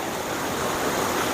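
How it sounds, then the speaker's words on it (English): Steady broadband rush of the sixth stage of Erin Ijesha waterfall, a continuous close roar of falling water with no breaks and no voices. "But this is the 6th stage of the waterfall."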